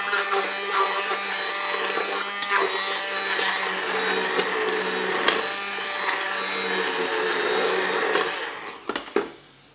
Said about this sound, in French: Je vais mixer directement dans la cuve.